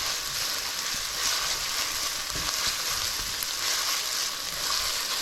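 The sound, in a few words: onions sauteing in a pan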